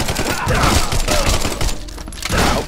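Rapid gunfire in The Sinking City video game, a dense volley of loud, close shots and impacts in quick succession, mixed with in-game noise.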